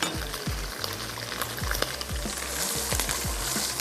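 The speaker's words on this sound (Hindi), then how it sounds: "थोड़ा सा इसको सौते होने देते हैं।" The white parts of green onions sauté in hot oil with bay leaf for chicken biryani, a loud close sizzle with repeated sharp scrapes of a stirring spoon against the pan.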